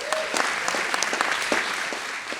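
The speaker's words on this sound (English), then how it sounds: "So give yourselves a round of applause." An indoor audience claps for a few seconds, with dense and fairly close applause that stays steady and then begins to thin slightly toward the end.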